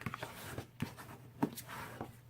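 A folded card base for a handmade card, creased with a bone folder: a few short, quiet scraping and rubbing strokes close up, with brief pauses between them and no talking.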